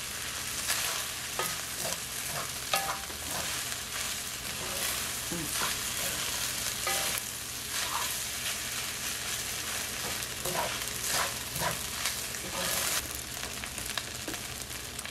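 Chinese-style fried rice sizzles steadily in a pan while a utensil stirs and scrapes through it, with repeated clicks and scrapes over the constant frying hiss, close up.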